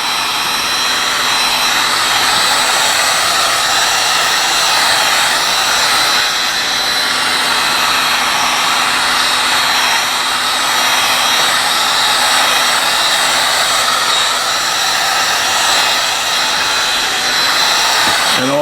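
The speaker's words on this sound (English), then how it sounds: "that's why we always recommend using a hair dryer" A hair dryer, used to dry filler during a leather repair, blows in a loud, steady, close whoosh with a high whine, running without pause.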